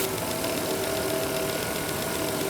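A running engine idles steadily and loudly up close, with a fine rapid ticking from a fuel injector clicking beneath the engine drone.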